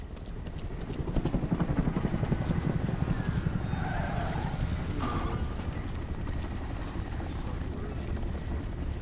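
A video game drone hovers in Homefront: The Revolution, a steady whirring hum with rapid rotor-like pulsing filling the whole stretch, loud and continuous with no talking.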